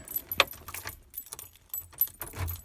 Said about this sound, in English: So we can come over here, grab the keys